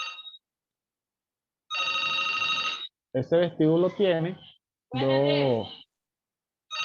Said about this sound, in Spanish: Suena el teléfono aquí en la parte de la oreja